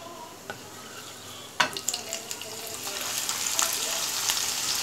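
Onions drop into hot oil with roasted cumin, setting off a sudden crackle that builds into a steady, loud sizzle with scattered pops and the scrape of stirring.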